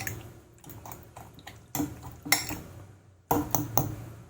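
Eggplant mixture seasoned with a little salt is stirred in a bowl, with close, irregular clinks and scrapes of a utensil against the dish, a few louder knocks standing out, and no voices.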